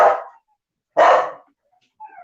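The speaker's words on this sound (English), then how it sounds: "let me see if I can get my dog to stop barking." A dog at home barks loudly twice in close succession, sharp and near, followed by a fainter whimpering yip.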